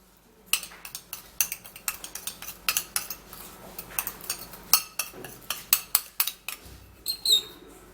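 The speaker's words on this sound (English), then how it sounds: "you're going to just give it a little stir. So to mix it all up together." A spoon stirs a homemade paste mixture in a small dish, making a quiet run of rapid clinking taps and scrapes in an irregular rhythm, close by with no talking.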